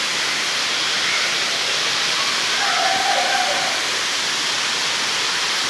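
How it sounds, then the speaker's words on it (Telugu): Sarugudu waterfall roars as a constant, dense wash of falling water, loud and unbroken throughout with no clear voices above it. "మనం మరి ఇప్పుడు వాటర్ ఫాల్స్ దగ్గరికి ఇంకా దగ్గరికి వెళ్దాము"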